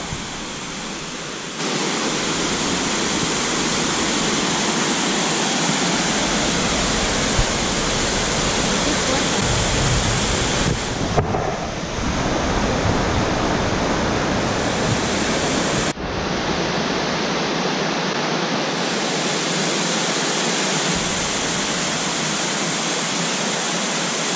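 Salto de Rondo waterfall in Oberá, Misiones, roars as a steady, dense broadband rush of falling water, loud and continuous throughout with no voices.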